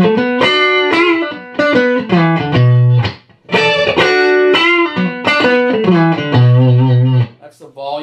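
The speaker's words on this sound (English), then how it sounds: "That's what we'll be using to test out some Strat style tones." A Strat-style electric guitar with a Koa body, maple neck and Wilkinson bridge plays through a 1961 Fender 6G6 Bassman amp, ringing chords and single-note phrases with a slight gritty edge, loud and close, with a brief gap midway.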